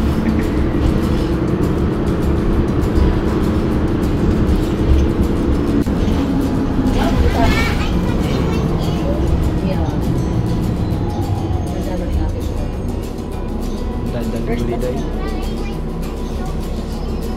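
Interior of a city bus riding through Saskatoon, a loud continuous engine and road rumble with rattling, while people talk inside the cabin.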